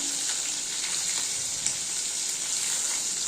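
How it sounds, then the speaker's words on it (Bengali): Fish sizzle and crackle steadily in hot oil in a pan, a close, continuous frying hiss with no talking. "কিছুক্ষণ ভাজার পর ভালো করে মাছগুলো ভেজে নিই।"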